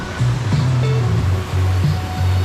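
Steady rushing water roars without pause, like a waterfall pouring nearby, loud and unbroken.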